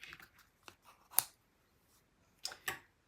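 Several crisp snips of scissors trimming paper for a craft kit, quiet and close, in short clusters separated by brief pauses with no speech.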